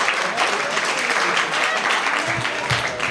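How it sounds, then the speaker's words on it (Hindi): Classroom students in an English coaching class applauding loudly, a continuous burst of many hands clapping with a slight roomy wash throughout. "चलिए, एक बार जोरदार ताली बजाइए।"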